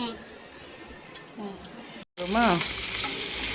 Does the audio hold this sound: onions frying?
yes